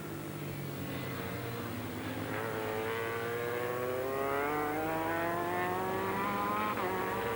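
A big yellow Ducati Superbike racing motorcycle at a race-track superbike round whines as its engine pitch rises steadily through the gears, a continuous high revving drone heard at a moderate distance against a steady background roar.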